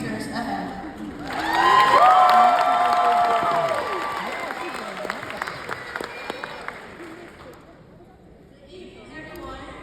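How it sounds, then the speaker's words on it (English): Applause and cheering at a graduation ceremony in New Orleans, a crowd clapping with scattered whoops and shouts that swell early then slowly fade, under an amplified voice and echoing hall sound. "Let's give them a warm round of applause as they take the stage"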